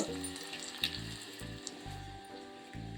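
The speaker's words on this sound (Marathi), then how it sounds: "लसूण पोळतोय" Crushed garlic cloves with a pinch of asafoetida sizzle steadily in a little hot oil in a pot, a close continuous crackle with a few brief clinks.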